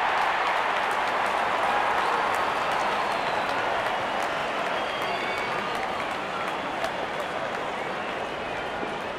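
Crowd cheering and applauding in the cricket video game RC22 as openers walk out, a constant dense roar of clapping and crowd noise holding steady for about nine seconds, with commentary voices underneath.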